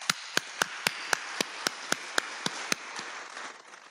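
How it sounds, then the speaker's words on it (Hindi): A congregation claps at a Catholic priestly ordination ceremony, striking in tight unison to a brisk, even beat of about four claps per second. The sharp claps sound close and fade out after around three seconds. "हम जोरदार तालियां बजाएं"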